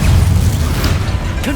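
A Bombarda blasting spell in Hogwarts Legacy gives a loud, close, rumbling blast with a heavy low roar that holds steady, ending in a short whooshing sweep.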